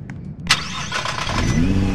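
A pearl white 2017 Nissan GT-R Nismo in the Greenville video game starts up: a sharp click and crank, then the engine catches and settles into a loud, rumbling idle close by.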